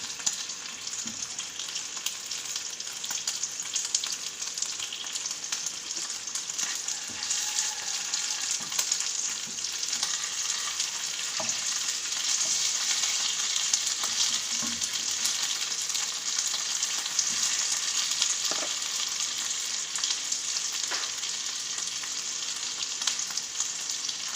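Chorizo sizzles steadily in a hot pan, a continuous bright crackle and hiss with occasional soft stirring clicks, close and even throughout with no talking.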